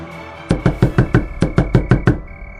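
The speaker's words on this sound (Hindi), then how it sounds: "कांपते हाथों से दरवाजा खटखटाया" Knuckles rap on an old wooden door of a wooden house, about ten sharp, close knocks in a quick, slightly uneven rhythm over a faint hum.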